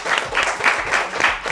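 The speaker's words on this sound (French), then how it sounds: "Est-ce qu'on peut applaudir très fort pour Tata Lucie?" A small audience at a children's show claps loudly in a brief burst, with rhythmic pulses suggesting the crowd clapping together close by.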